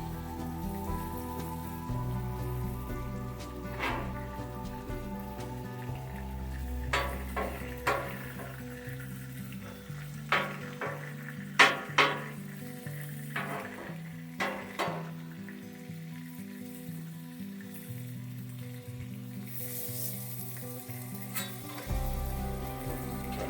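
Bacon sizzling and popping in a pan, a continuous crackling hiss with scattered sharp pops and spits, steady and close throughout with no talk.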